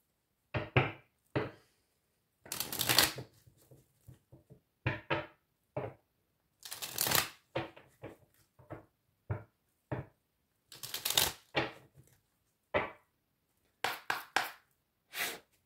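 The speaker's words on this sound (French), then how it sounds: "je vais prendre une petite carte avec l'oracle de la rose de Maman Marie" Oracle cards from a rose-themed deck are shuffled and drawn, giving quiet dry bursts of riffling and sharp taps and knocks of card on card, in irregular clusters with short pauses and no talk.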